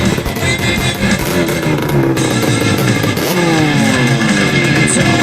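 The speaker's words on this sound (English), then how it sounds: "This is our first startup when we got the motor." A vintage racing boat motor with a Pro Alky foot and custom pipe fires up for the first time after 20 years in storage, roaring loud and close with a steady rasp and a revving shift in pitch partway through.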